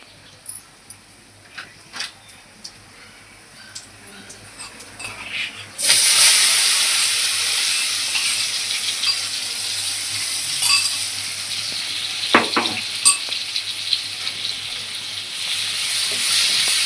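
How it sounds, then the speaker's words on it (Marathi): Garlic and coriander masala hits hot oil in a pan of potato bhaji with cumin, bursting into a sudden, steady sizzle after some quieter clinks, continuing with occasional scrapes of stirring. "छानसं भाजून घेऊया."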